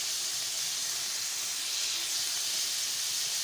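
Fish curry in a kadai just after the gravy is poured over fried fish: a continuous bright hiss and sizzle of steam, close and steady, with no voices.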